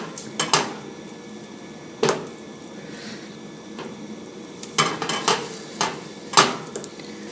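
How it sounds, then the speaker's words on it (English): Butter melting in a pot while being stirred, with repeated sharp metallic clinks and scrapes of a utensil against the pot in irregular bursts over a faint background sizzle, no talking. "Stir it because butter likes to burn."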